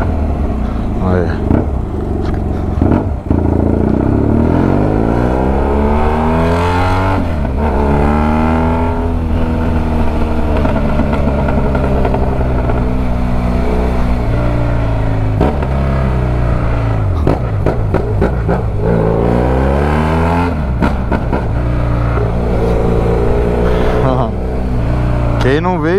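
A BMW F800GS motorcycle with only a bare exhaust pipe revs repeatedly in a favela, its loud, close engine note climbing and dropping in long sweeps throughout.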